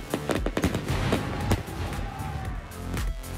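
Dense barrage of fireworks and firecrackers bursting at a festival in Japan, continuous rapid cracks and booms layered over one another, loud and close with a faint crowd murmur beneath.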